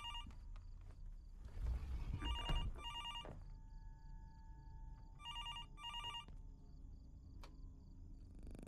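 In the horror game Fears to Fathom: Norwood Hitchhike, an old telephone bell rings in several short repeated bursts over quiet crickets and low ambient rumble, heard at moderate distance.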